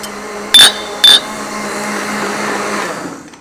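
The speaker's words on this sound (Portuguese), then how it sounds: "trituramos com água via o liquidificador." Kitchen blender grinding plant material with water, a loud steady whirring drone throughout, broken early by two short sharp clatter bursts before the motor settles and fades at the end.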